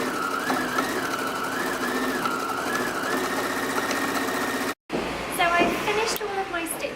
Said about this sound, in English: I'm going to sew all the way to the bottom of the scarf